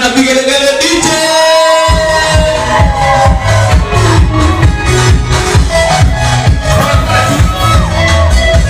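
A festive crowd at a celebration welcoming Shiku Blessings cheers, shouts and ululates loudly, with high trilling calls over pounding music and rhythmic beats throughout.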